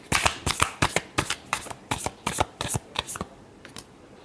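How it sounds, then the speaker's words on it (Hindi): Tarot cards are shuffled by hand in a rapid series of about a dozen crisp riffling bursts, close and fairly loud, tapering off near the end with no talking. "last shuffle"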